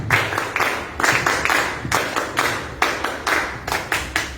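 A small audience at a talk on drug-use prevention and local governments claps to welcome a speaker, producing distinct bursts of clapping in a loose, irregular rhythm, close and moderately loud.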